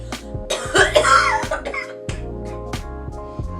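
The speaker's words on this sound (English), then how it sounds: "No, this isn't your regular cough." Several harsh, unusual coughs in quick succession, loud and close, with raspy, crowing tones between bursts and no talking.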